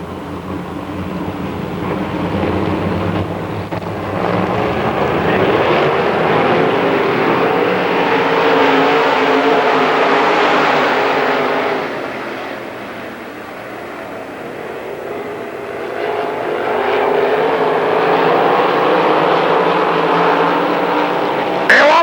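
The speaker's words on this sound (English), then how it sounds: "Nick wants that runner-up spot, and he puts the number 15 car ahead of Satterley as they go to the backstretch." Late model race cars roar around the Lernerville Speedway dirt track in a dense, continuous engine drone that swells and fades as the pack passes, loud and sustained for the whole stretch.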